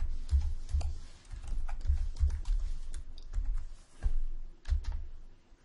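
Typing on a computer keyboard, a run of soft, close keystrokes in uneven bursts with short pauses between them, and no voices.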